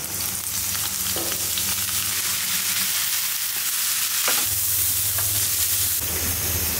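Bitter gourd and onion slices fry in hot oil with a steady, loud sizzle and crackle, swelling for a moment as the pan is stirred partway through.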